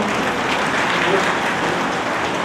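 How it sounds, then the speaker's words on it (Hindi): Audience applause at a Shrimad Bhagwat Katha gathering in a temple, a dense burst of clapping from many hands that holds steady and loud throughout the short moment. "जोरदार तालियां।"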